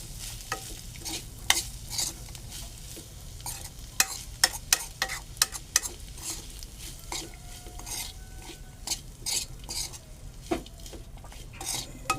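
Peanuts are sautéed in a pan, a spoon scraping and clicking against the metal in an irregular stirring rhythm over a quiet background sizzle, close and clear.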